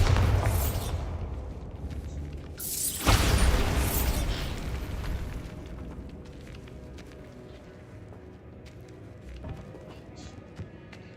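A loud explosive burst from the Bombarda spell in Hogwarts Legacy, a sharp blast about three seconds in with rumbling debris trailing off, set against busy game sound and music.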